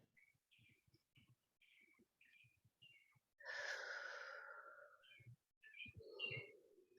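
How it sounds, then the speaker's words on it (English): Short, faint bird chirps repeat at a distance in a quiet space, broken by a louder breathy rush and a couple of closer chirps near the end. "somewhere I can hear a bird chirping"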